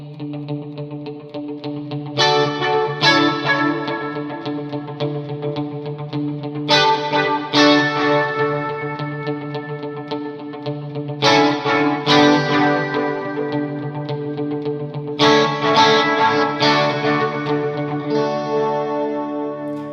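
Electric guitar through a dotted eighth delay with reverb and chorus, playing repeated chord stabs whose echoes cascade and shimmer between strikes in a steady, loud, spacious rhythm, alone.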